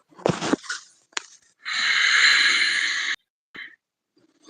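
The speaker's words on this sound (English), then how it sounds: "Now I'm going to do the same thing with my mouth closed, like a gentle snore." Gentle snore-like breath drawn with the mouth closed during a breathing demonstration, a steady airy rasp of about one and a half seconds, close and clear, framed by short breathy sounds and brief pauses.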